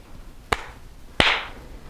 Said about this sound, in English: can you do that clap one more time?